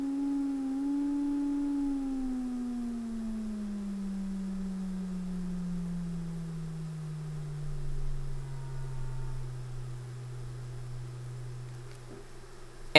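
Steady sine-wave tones hum in layers, the lowest one gliding slowly downward over several seconds while fainter harmonics above it drift too, all soft and sustained against a quiet noise floor.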